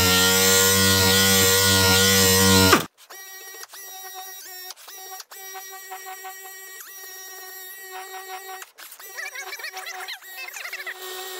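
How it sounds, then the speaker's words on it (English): A SurfPrep sander fitted with a non-woven pad works over a distressed powder-glaze cabinet finish, giving a loud, steady motor whine for about three seconds before dropping to a softer, wavering tonal hum with brief breaks. "with that SurfPrep sander, I can kind of offset my non-woven pad here, and I can get in all these little details"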